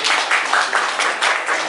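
An audience at a lecture on Malaysian orchids breaks into loud, dense applause, a steady wash of many hands clapping close by with no speech over it.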